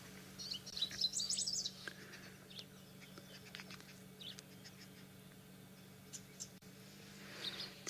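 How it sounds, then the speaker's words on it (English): Several birds chirp and tweet at once near a Wahlberg's eagle nest, high thin calls scattered over a low steady hum, loudest early and fading into faint outdoor ambience. "There's a whole bunch of birds here."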